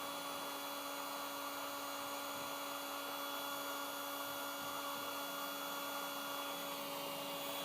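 A heat gun runs steadily, switched on for a thermal camera test, giving a constant high whine and airy hiss with no pauses or talk.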